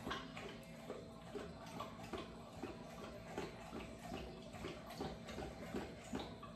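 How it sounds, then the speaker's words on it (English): A dog laps water steadily from a bowl at close range, a quick repetitive wet slurping rhythm over a constant hiss of background noise. "Don't mind my dog drinking all that water."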